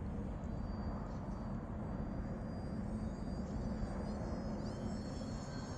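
A homemade RC timber scout model airplane flies with its electric motor at full throttle, a continuous rumbling drone with a faint high whine above it, steady and constant throughout with no voices.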